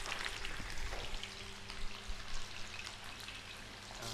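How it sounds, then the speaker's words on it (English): Meat tied with kitchen twine searing in a pan, a quiet steady sizzle and crackle with a few soft knocks, close but faint. "we're gonna very carefully place this down and sear it nicely"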